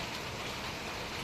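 Heavy monsoon rain in Karnataka pours down as a dense, even hiss of broadband noise, continuous and steady with no voices.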